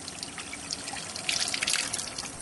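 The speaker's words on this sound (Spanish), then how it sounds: "¿Sabes de dónde viene el agua que chorrea por el grifo que tienes en tu casa?" Water runs steadily from a household tap, a continuous close hiss and trickle that swells slightly midway, with no voices.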